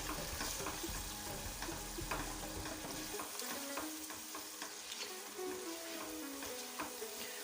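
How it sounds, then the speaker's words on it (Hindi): Spices and ground pepper with garam masala and salt fry and are stirred in a pan for chicken kachnar, a steady soft sizzle with scraping stir strokes throughout, close and moderately quiet, no talking. "मसाले को हम अच्छी तरह से भून लेते हैं।"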